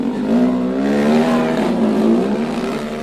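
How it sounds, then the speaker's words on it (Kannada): Dirt bike racing motorcycles rev loudly on a dusty track, engines whining up and down in rising, overlapping pitch sweeps close by. "ಬೈಕ್ ಡರ್ಟ್ ರೇಸ್ ಆಯೋಜಿಸಲಾಗಿದ್ದು"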